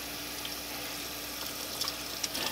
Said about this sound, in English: quite simply just run under cold water, get a good rinse